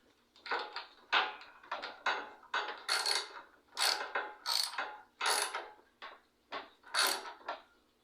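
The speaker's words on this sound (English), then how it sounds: "Tighten these evenly, guys, so you can get a good seal on the carburetor." Carburetor mounting nuts tightened evenly on a GX160 170F small engine, giving a run of short, close ratcheting and clicking bursts in a steady rhythm with brief pauses between turns.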